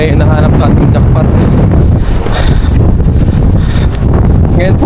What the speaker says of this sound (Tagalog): Ngayon po kasi talagang mahangin